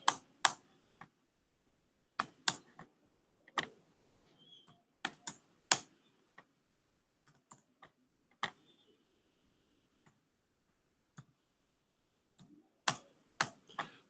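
Sharp isolated keystrokes on a computer keyboard, with Enter pressed while drawing lines in a CAD program, tapping in irregular bursts of single and double clicks, close and quiet with long pauses between.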